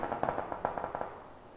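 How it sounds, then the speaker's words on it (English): Gunfire in a video game: a quick run of sharp, crackling shots in an uneven burst, moderately loud at first and then trailing off, with no talking. "There's that gunfire."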